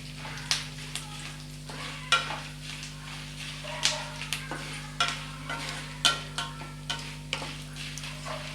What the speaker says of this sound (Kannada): ಸೊ ಕರಿಬೇವು ಹಾಕಿದ್ಮೇಲೆ ಹುಷಾರಾಗಿರಿ, ಇದು ಕೂಡ ಸಿಡಿಯೋಕ್ಕೆ ಸ್ಟಾರ್ಟ್ ಆಗುತ್ತೆ